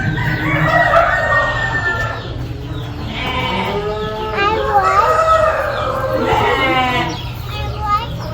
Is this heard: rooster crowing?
yes